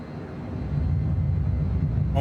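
Eurofighter Typhoon jet engine in Microsoft Flight Simulator, a loud steady low roar that builds slightly and holds throughout, with a brief higher whine near the end.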